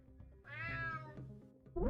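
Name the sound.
cat meowing in UnMetal video game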